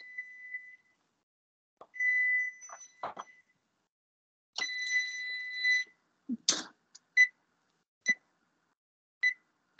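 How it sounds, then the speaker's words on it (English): Oven timer beeping in short tonal bursts, some longer and some clipped, with occasional clinks and soft kitchen noises between them. "Sorry, my oven's beeping"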